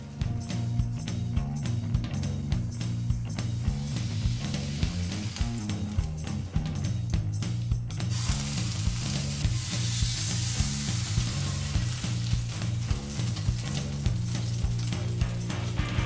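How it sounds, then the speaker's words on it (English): Pork seared slowly in a pan for homemade ramen gives a continuous, fairly loud sizzle that grows brighter partway through, heard beneath steady background music. "Then, slowly sear the outside of the pork."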